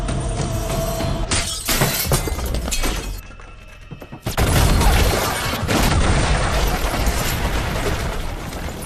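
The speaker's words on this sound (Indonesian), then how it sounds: "Akibat ledakan barusan, Lena pun harus tewas sebelum sempat nyeblak" A loud cinematic explosion in the film Ballerina with crashing, shattering debris, a brief dip, then a second heavy boom and rumbling destruction that lingers.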